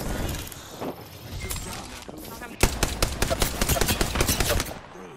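Rapid video game gunfire in an online shooter, starting with scattered shots and then breaking into dense, loud automatic bursts that rattle on for a couple of seconds before cutting off.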